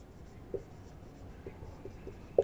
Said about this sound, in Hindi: अब यहां पे लिखते हैं